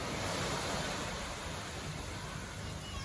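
Soft surf washing onto a small, quiet, nearly empty beach in Korea, a steady low wash of waves with broadband hiss and no voices.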